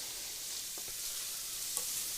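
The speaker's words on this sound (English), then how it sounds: "So the onion is sizzling with the meat here" Steady hissing sizzle of onion and meat frying in a hot pan, a constant crackle with a couple of faint soft knocks.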